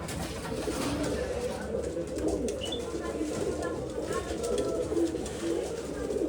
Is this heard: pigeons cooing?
yes